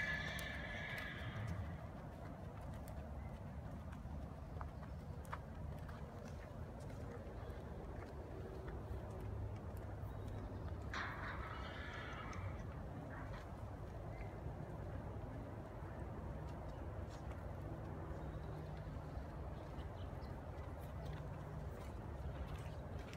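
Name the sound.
lame horse walking, hooves clip-clopping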